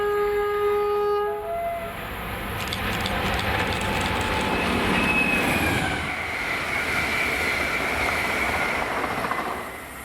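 InterCity push-pull tour train passing Park Farm near Linlithgow on a Glasgow Queen Street to Edinburgh Waverley run, a loud steady rush of wheels on rail with faint squeals and a fading horn-like tone at the start, heard close by.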